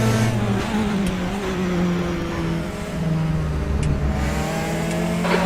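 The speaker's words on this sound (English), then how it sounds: "There's a group of slower cars ahead" Race cars in the RaceRoom racing game at Portimao, a close engine note droning and shifting pitch steadily as the car runs among slower traffic, loud and continuous with no talk.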